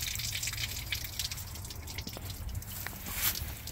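Dirty old coolant drains from the radiator of a 1972 Chevy C10 pickup, a steady trickling splash with dripping and gushing liquid that keeps going close by without talk.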